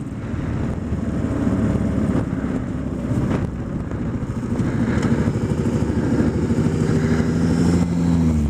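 A silver mid-1970s Suzuki TS 100 two-stroke dirt bike engine runs steadily and fairly close, its buzzing drone holding a continuous, slightly rising pitch throughout with no talk over it.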